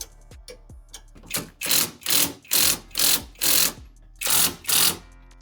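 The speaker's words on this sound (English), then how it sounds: "So I'm just gonna go ahead, redo my work, and then I'll see you guys when I'm tightening this down. Got a wrench, 19 mil." A 19 mm wrench ratchets down a track bar bolt on a Jeep axle during a lift kit install, giving a row of about eight evenly spaced, close rasping clicks after a few faint taps.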